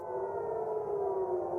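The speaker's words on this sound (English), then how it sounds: "sirens blared across central Israel as a missile launched from Yemen was intercepted" A civil defense siren sounds during a missile alert in central Israel, triggered by a missile launched from Yemen. It is a steady, droning wail, fairly faint and distant, with no voices over it.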